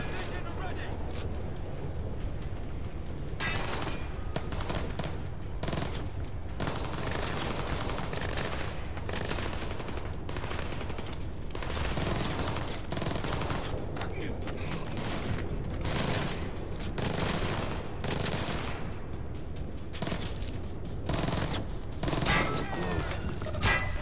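Enemy gunfire in Splinter Cell: Blacklist, loud, dense bursts of automatic shots and volleys nearly without pause, under game action and occasional voices.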